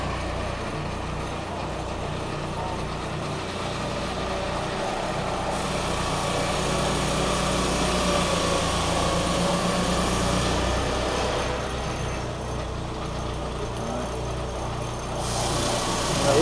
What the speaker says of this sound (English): So it's a 10-inch mill with a 25-horsepower Honda engine, IGX 800, so it's fuel injected.